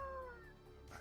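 Pluto, a grumpy black cat, lets out a single short, faint meow with a falling pitch, heard on its own.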